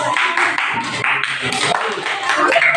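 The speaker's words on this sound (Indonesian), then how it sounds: "Ya, tepuk tangan buat mereka" Classroom of students applauding a presenting group, quick uneven hand claps from several people nearby, with voices talking over the clapping.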